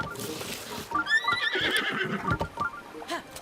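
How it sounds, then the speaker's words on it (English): A horse neighs loudly in The Legend of Zelda: Breath of the Wild, a high whinny that rises and trembles, with hoof clip-clops and game sounds around it and a voice talking over it. "What's wrong with you, horse?"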